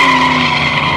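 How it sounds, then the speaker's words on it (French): A drag race car spins its tyres at the start line, giving a loud, sustained tyre squeal with engine tone for about a second at close range. "Ça patine au démarrage"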